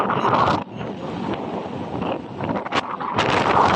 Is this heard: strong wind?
yes